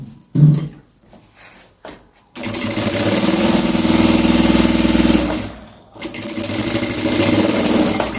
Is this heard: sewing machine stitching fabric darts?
yes